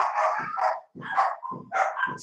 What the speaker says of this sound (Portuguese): os cachorros latiram